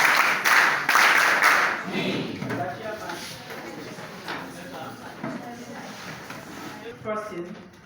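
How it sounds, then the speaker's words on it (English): A crowd gives a short burst of applause for a judge at an event, lasting about two seconds before a voice continues over a quieter room. "Let's clap for him once more"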